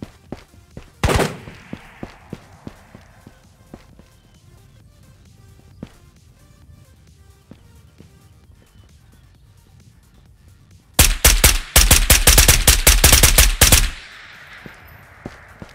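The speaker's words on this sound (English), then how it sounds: "Who's shooting over here? A scav shooting something." An H&K G36K and other guns firing in a shooter video game: a single sharp shot near the start, a few faint distant pops, then a loud rapid burst of automatic fire lasting about three seconds, with no talk.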